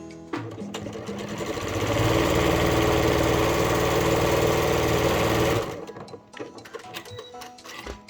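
A sewing machine stitching a pouch with a freshly fitted bobbin: a steady, close whirring hum ramps up, runs evenly for several seconds, then stops abruptly, leaving small handling clicks and rustles.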